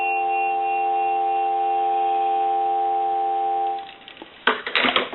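A continuous telephone dial tone hums steadily from an old Kellogg wooden wall crank phone for nearly four seconds, then cuts out and gives way to brief clicks and handling rattles.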